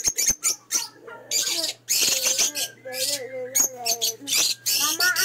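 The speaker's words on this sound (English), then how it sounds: "look at that bird" A pet bird chirps and squawks in short sharp bursts at close range, with children and adults talking around it.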